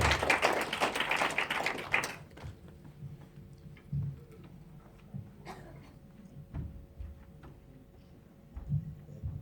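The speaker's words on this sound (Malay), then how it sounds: "Berikan satu tepukan yang paling gemuruh untuk beliau." An audience at a live evening business preview event breaks into loud applause that lasts about two seconds, then cuts off, leaving a quiet room with scattered faint taps.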